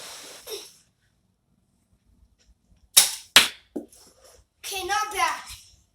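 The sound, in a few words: Nerf toy pistol firing foam darts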